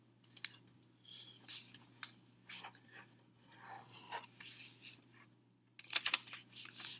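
A paper airplane being folded: close, crisp creasing and sliding paper sounds in scattered bursts, with soft rustles between them over a faint steady hum.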